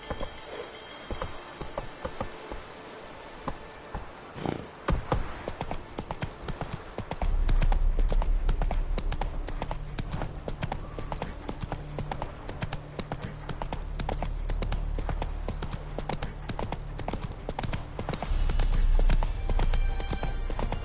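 Horse hooves from The Witcher 3 clop at a steady gallop, quiet at first and then loud and continuous from about a third of the way in, close and driving with no talk over them.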